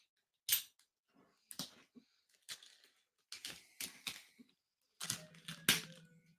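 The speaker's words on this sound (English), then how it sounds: "Use my Italian letter opener there." A letter opener slices and tears into product packaging in sharp, close bursts of crinkling and ripping plastic separated by brief pauses, with a faint hum at the end.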